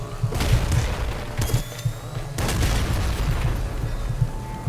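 Explosions in the top-down shooter Nuclear Throne, a dense run of booming blasts and bursts with busy game effects throughout, loud and continuous with no clear pauses.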